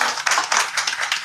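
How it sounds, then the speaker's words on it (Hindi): Applause for Malik sahab at a gathering of Pakistanis in Japan: a small group clapping close by in uneven bursts, fairly loud and brief, with no talk over it. "मलिक साहब के लिए भरपूर तालियां हो"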